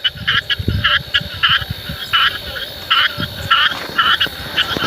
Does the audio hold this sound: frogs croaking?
yes